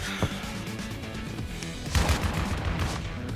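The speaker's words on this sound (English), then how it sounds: "Oh my god, this shotgun" Shotgun blasts in Call of Duty MWII, a sharp lone report followed by a heavier cluster of loud booming shots amid busy game noise.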